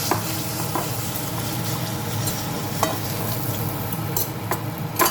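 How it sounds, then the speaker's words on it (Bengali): Fish fries in oil in a wok with a continuous crackling sizzle, broken by occasional light knocks and stirring clicks. "বাকি মাছগুলো এইভাবে ভেজে নেব।"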